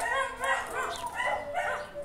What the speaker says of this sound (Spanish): Se enojaron los perritos de la vecina.